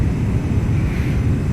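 Beechcraft Premier 1A jet engines throttling down in the X-Plane 11 flight simulator, a loud steady low rumble with a broad airy roar and no voices.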